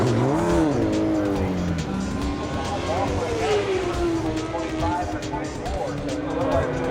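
A Honda superbike laps the Mid-Ohio track in an AMA Superbike race, its engine screaming through rising and falling gear sweeps, loud and continuous, with speech faintly mixed in.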